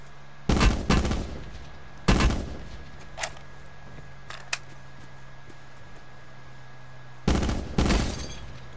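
Gunfire in Call of Duty: Black Ops 4 during a duo match, loud sharp bursts of several rapid shots in three separate volleys with a couple of faint single cracks between them, no talking.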